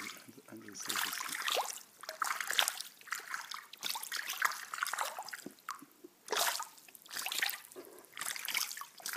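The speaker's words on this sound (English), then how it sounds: "I'm getting splashed now." Water splashes and trickles as rainbow trout feed in a frenzy near the surface, with irregular bursts of splashing and dripping, close and fairly loud, while people talk excitedly over it.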